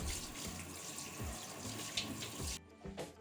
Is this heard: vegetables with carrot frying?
no